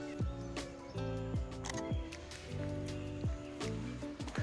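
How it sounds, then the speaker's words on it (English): A Fujifilm X-M5 mirrorless camera fires its shutter repeatedly outdoors in Arizona, about seven crisp, close clicks at irregular intervals over a faint background. "Such a satisfying shutter."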